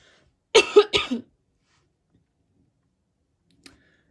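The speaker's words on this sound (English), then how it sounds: "when I coughed" Two quick, harsh coughs close to the microphone, followed by near silence and a faint click.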